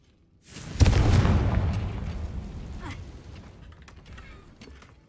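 A Confringo blasting spell bursts in Hogwarts Legacy, hitting with a sharp boom that fades into a long rumbling, crackling tail with scattered debris sounds, loud and close with no talking.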